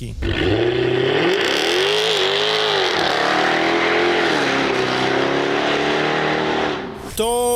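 A Jaguar F-Type with a 5-litre V8 engine revs loudly and close, its pitch swelling and dipping in long throttle sweeps before cutting off abruptly near the end.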